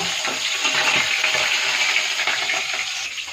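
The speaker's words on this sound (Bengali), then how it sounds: "শাকে মাছের মাথাগুলো দেবো বলে মাছের মাথাগুলো ভেজে নিচ্ছি আমি।" Fish heads fry in hot oil in a wok, giving a loud, continuous crackling sizzle close by with no voices.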